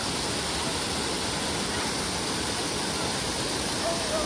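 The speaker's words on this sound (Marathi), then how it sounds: "धबधबा" A waterfall roars as a loud, dense, unbroken rush of falling water, filling the whole space with constant noise and no distinct events.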